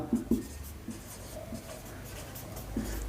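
Chalk or marker writing on a classroom board during a maths lesson, a few short taps and scratchy strokes, close and quiet with a faint room hum and no talk.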